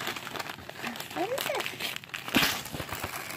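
A dog tears into the wrapping paper of a birthday present indoors, giving short crinkling, ripping bursts close by while people talk and encourage it throughout.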